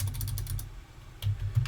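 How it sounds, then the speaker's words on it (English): Keystrokes on a computer keyboard while a script is set up in Linux, a quick patter of taps in a short burst, close and fairly quiet, with a hum underneath. "I'm having a hard time typing today."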